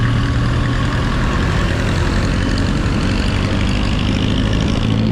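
A fiery red Honda Click 125 scooter idles nearby with a steady, continuous engine hum and rumble, unchanging and alone without speech.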